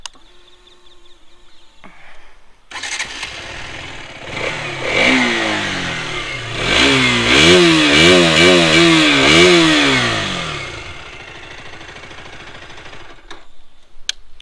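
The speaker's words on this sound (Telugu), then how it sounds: "మీకు ఒకసారి ఎగ్జాస్ట్ నోట్ కూడా వినిపిస్తాను." A 2024 KTM RC 200 motorcycle engine starting up and idling, then revved several times in rising and falling sweeps before settling back to a loud, close idle and cutting off.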